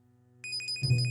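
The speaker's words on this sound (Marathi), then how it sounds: "कोणाचा फोन आहे?" A phone rings in a domestic drama scene, its electronic ringtone starting partway through with repeated bright tones over a low hum, followed by a muffled thump near the end.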